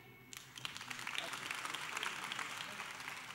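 An audience at a Turkish art music chamber choir concert breaks into applause for the soloist Gamze Güler. The clapping starts abruptly after a short pause, then swells into a steady, full round that lasts to the end.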